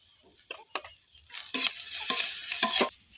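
Chopped chilli and onion frying in a pan for a white brinjal dish, heard close as intermittent sizzling bursts that swell with stirring, growing louder toward the end, with no talk.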